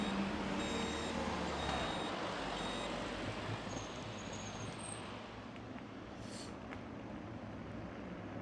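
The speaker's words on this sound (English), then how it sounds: "So squeaky brakes." A car's brakes squeal in thin high tones while it drives down toward the harbour in Conwy in December, with steady road and engine noise running throughout.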